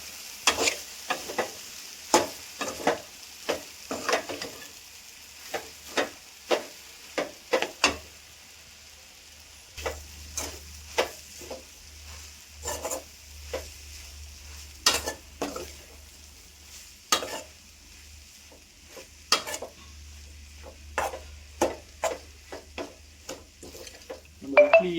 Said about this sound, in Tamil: இட்லியை நம்ம வேக வச்ச இட்லியை அப்படியே கையில் பிரிஞ்சு அதை அப்படியே நம்ம போட போகிறோம்